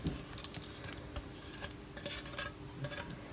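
A spoon stirs jelly into fruit custard for a Pakistani lab-e-shireen dessert, giving quiet scraping and soft clinks against a bowl in an irregular rhythm, faint and with no voices.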